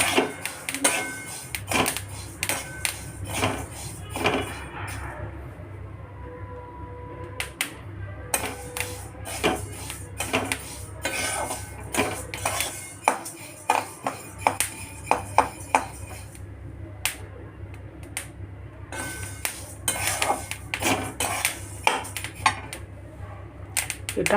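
Dry fruits are dry-roasted in a pan for laddu, a spatula scraping and clinking against the metal in irregular bursts of sharp taps and rattles, with brief quieter pauses between stirs.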